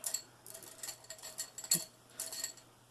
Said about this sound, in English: That sound you hear is me digging through my brushes.